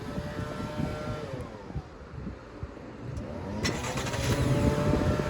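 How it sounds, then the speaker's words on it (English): The engine of a 2018 Holden Calais Tourer starts by remote start and settles into an even idle that swells a little louder toward the end, with a low rumble and no talk. "your car will start and run the air conditioner"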